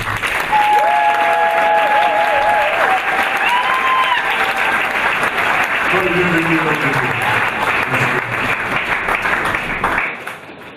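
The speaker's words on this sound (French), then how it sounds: "Et nous acclamons le Seigneur pour sa présence." A church congregation applauds, loud dense clapping mixed with voices and calls that holds steady before fading abruptly at the end.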